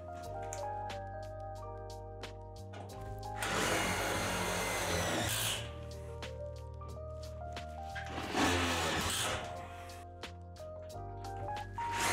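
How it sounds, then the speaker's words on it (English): A power driver whirs in two bursts, one long and one shorter, as self-tapping screws go into the truss braces of a Lifetime 10' x 8' outdoor storage shed, with steady background music throughout. "lift the short truss brace up and secure the self-tapping screws on each side"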